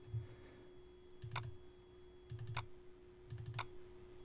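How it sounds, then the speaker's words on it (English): Computer keyboard keys pressed in three separate short clusters of clicks, close and fairly quiet over a steady low hum. "hit the Enter button twice to add 2 spaces"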